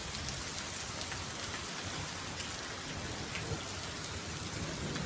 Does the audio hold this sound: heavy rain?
yes